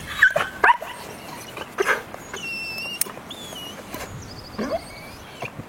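A female dog in bite training gives a few sharp barks and yips, then whimpers, close by, with high whistle-like tones and quieter pauses between bursts.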